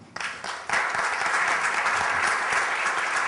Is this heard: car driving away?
no